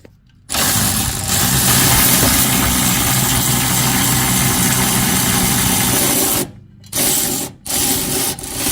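An electric impact tool spins off 21 mm bolts on a Ram 1500 rear bumper step, giving a steady close whirring run for several seconds, then a few short bursts separated by brief pauses.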